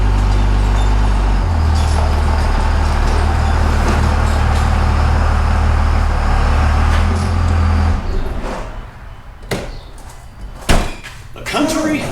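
A vehicle tows a Country Peddler produce trailer onto the road from a vegetable farm. A steady, loud, low engine rumble cuts out partway through, followed by scattered clunks and a door-like slam.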